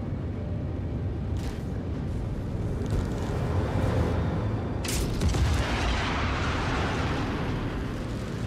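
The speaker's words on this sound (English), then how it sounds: "Missiles hit him." Missiles striking an enemy ship in a space combat video game: a continuous roar of rumbling explosions with a couple of sharper bursts rising out of the din, loud and sustained throughout.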